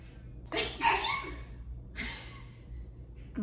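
One sharp, close sneeze bursts out, followed a moment later by a breathy exhale, with no talking.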